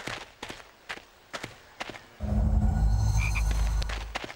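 A chocolate frog in the Harry Potter and the Chamber of Secrets PS2 game lets out a loud, drawn-out croak that follows a few light footsteps.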